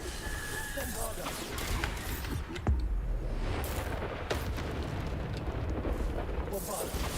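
A Bombarda explosion spell from a modded Harry Potter video game, heard as a heavy boom partway through over continuous rumbling game noise, with a talking voice mixed underneath.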